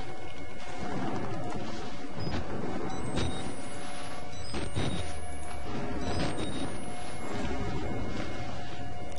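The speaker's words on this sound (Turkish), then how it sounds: "Bir yerde kapı kırılıyor." Heavy door being battered and smashed somewhere inside a building in the horror video game Outlast, with repeated loud crashing thuds over a dense, rumbling ambient background and no talk.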